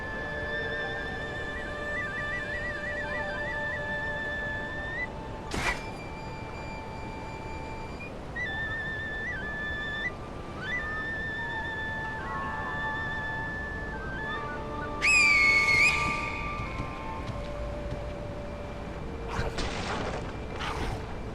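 Two figures whistle in the video game Sekiro. Their thin, sustained, wavering tones come and go over a steady low game ambience, with a few sharp clicks and a louder burst near the end.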